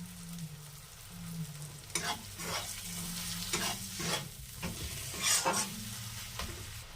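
Green and red chillies frying in a pan, a steady sizzle broken by repeated scraping stirs at an uneven rhythm, with a faint low hum underneath.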